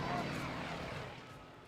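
An aerobatic competition aircraft with a 450 horsepower radial engine flies at an air festival, its broad droning engine roar heard at a distance, briefly swelling and then fading slightly.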